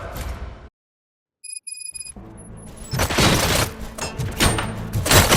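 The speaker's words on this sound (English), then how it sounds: "Gunshots? What's going on?" Video game gunfire in Robocop: Rogue City: after a brief silence and a few electronic beeps, dense bursts of shots and booming impacts erupt and keep going loud and close.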